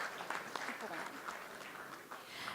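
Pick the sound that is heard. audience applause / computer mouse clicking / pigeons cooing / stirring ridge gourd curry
audience applause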